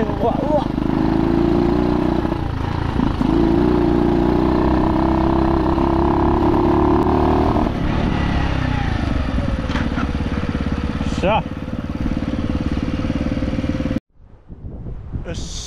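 A motorcycle engine drones loudly, its tone rising and falling as it rides over a gravel road, then cuts off abruptly near the end.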